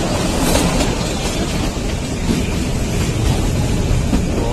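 Kalka Shimla toy train running on the mountain line near Salogra station, a steady loud rumble and rattle of wheels and carriages throughout, with no talk.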